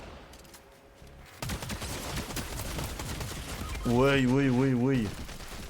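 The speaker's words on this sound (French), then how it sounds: "ça me tire dessus à 3 endroits en même temps" Rapid bursts of gunfire in a Fortnite match sound under excited talk, loud and continuous in a busy game mix.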